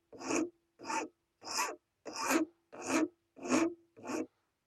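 Wood is shaved from the belly of a hand-carved wooden blade during section profiling: seven evenly spaced, close rasping strokes, each about half a second long, with short silent gaps between them.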